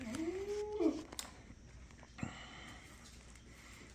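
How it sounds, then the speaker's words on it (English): A young barn cat that lives with goats gives a single short meow near the start, followed by faint rustling and soft movement in a quiet barn. "There's our new little barn cat."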